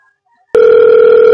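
A telephone starts ringing abruptly and loudly with a steady electronic tone that holds on without pause.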